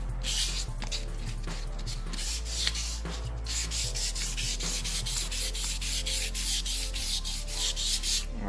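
Wet sandpaper rubbed over a car wheel being prepared for paint, a continuous close scratchy hiss in quick back-and-forth strokes that runs steadily throughout with no voices.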